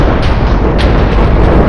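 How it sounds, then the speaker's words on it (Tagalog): A Minecraft creeper explodes in the video game with a loud, broad boom that rumbles on steadily, filling the mix with no voices over it. "Ala, sumabog yung creeper!"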